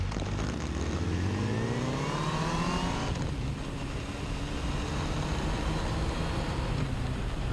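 A motorcycle accelerates hard while shifting up through its gears, its engine pitch climbing steeply before a brief dip at the change, then settling into a steady, loud riding roar with wind noise.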